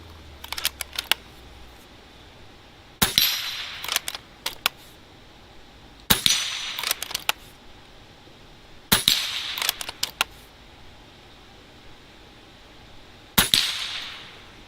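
An MA2 rifle fires at a target about 30 yards away, giving sharp snapping shots in small clusters of two or three, spaced by pauses, with no talk.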